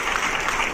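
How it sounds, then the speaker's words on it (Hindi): Broad, steady applause from an audience at a government budget event in an arts centre in Silvassa, Dadra and Nagar Haveli, welcoming a guest speaker; a continuous wash of clapping with no pauses. "ऐसे इंटेलेक्चुअल सेलिब्रिटी के लिए हम जोरदार तालियों से उनका स्वागत करेंगे"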